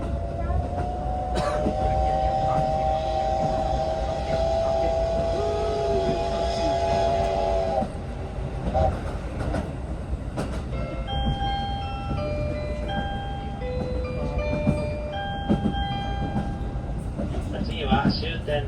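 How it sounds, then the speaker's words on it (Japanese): The SL Yamaguchi steam locomotive runs through open countryside toward Tsuwano, a loud, continuous rumble and rattle of the moving train with a long sustained whistle early on, followed by an announcement chime and a voice speaking over the running noise. "列車はこれから津和野に向けて雄大な田園地帯を走っていきます"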